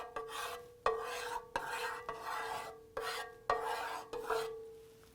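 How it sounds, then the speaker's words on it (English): A spatula scrapes and spreads frittata egg mixture around a pan in repeated strokes, each a sharp rasping scrape that fades, close and fairly quiet with no talk. "we're going to spread it around with a spatula"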